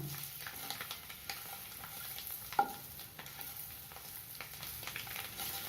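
Eggs for a spicy egg pepper gravy fry and get turned in a pan, giving a soft continuous sizzle with light stirring and scraping and one sharper clink midway, with no talking.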